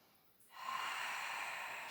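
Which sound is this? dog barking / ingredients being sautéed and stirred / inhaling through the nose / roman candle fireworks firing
inhaling through the nose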